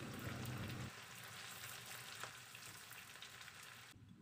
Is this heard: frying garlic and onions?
yes